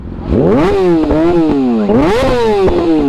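A motorcycle engine revved hard several times at a fuel station, pitch climbing and falling in steady surges with a crackling, popping exhaust, loud and close with no talking.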